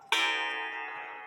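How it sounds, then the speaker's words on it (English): A Hubert Herr cuckoo quail clock under repair sounds a single bright gong-like strike that rings out and slowly decays, close and clear with no talking. "Here's an update on the Hubert Herr cuckoo quail clock that I've been working on."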